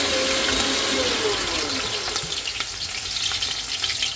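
Green chillies and onions fry in hot oil for a bachelor-style egg curry, giving a dense, steady sizzle that stays loud and close throughout with no talking.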